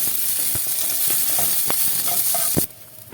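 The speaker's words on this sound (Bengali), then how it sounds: "এখানে কিশমিশ আর এই কাজুগুলো ভেজে নেব" Soaked cashews and raisins fry in a wok with a little ghee or oil, giving a steady close sizzle with a few scraping stirs of a spatula, before the frying dies down sharply near the end.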